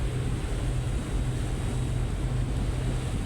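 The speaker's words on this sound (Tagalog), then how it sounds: "Dito kami sa dagat." Sea waves wash steadily during a boat trip, a continuous rushing surf blended with low wind and vessel rumble, with no pauses.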